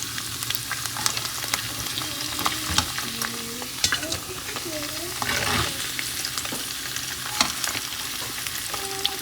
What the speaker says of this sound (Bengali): এবার পনিরগুলো তেলে ভেজে নিচ্ছি।